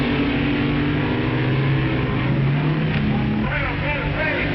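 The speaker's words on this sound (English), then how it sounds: "Dragmaster with a lower ET, but Tetz getting off the line better. Well, that's drag racing" Vintage drag racing cars rumble loudly off the starting line with a steady low engine roar, pitch shifting as they pull away, under a commentator's voice.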